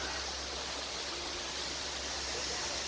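Small waterfall in Ubud, Bali, a steady broadband rush of falling water, close and even for the whole stretch with no voices.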